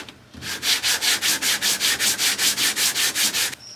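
Sanding on body filler on a 1971 Chevy Blazer with 150-grit sandpaper: about fifteen steady, even back-and-forth scrubbing strokes, close and loud, with nothing else heard.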